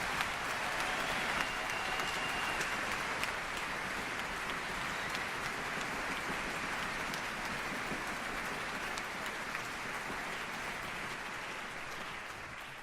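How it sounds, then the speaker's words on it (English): A large audience claps steadily in warm welcome for Kevin Spacey at an opening speech, a thick continuous wash of applause that holds for the whole stretch and eases off slightly at the end. "warm applause, Kevin Spacey."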